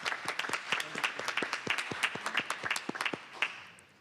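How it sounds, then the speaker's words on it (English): A small group claps at a city council meeting, scattered distinct hand claps from a modest audience, fairly close and moderately loud, tapering off after about three seconds. "We'll give you a clap"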